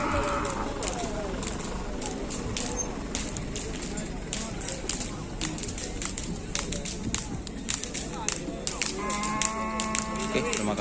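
A bull kept for karapan sapi racing moos nearby over a busy background of sharp clicks and crackles, with low lowing sounds rising again near the end.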